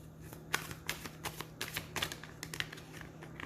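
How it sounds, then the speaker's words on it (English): Tarot cards are shuffled by hand, a series of quick crisp riffling bursts and taps in an irregular rhythm, close and fairly quiet over a faint steady hum, with no voices. "I'll get a good shuffle, and we'll not take that many tarot cards."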